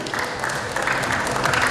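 Applause from an audience at a 2022 property talk show, honouring the Sky Property team; a short, steady wash of clapping throughout, moderately loud.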